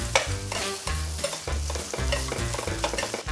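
A spatula flips and stirs pieces of dried tofu in an oiled pan beside beetroot, with rhythmic scraping strokes over a steady frying sizzle. Loud and close, with no speech.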